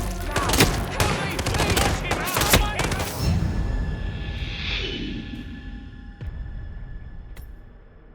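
Rapid bursts of gunfire in the Hitman 3 video game crack sharply over shouting voices for the first few seconds, then give way to a fading whoosh and a couple of isolated shots.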